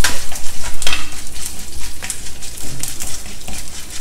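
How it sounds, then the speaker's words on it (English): Dals, including chana dal, frying in hot oil in a pan, a loud sizzle with rhythmic scraping stirs repeating every half second or so, close up. "Fry all the dals well."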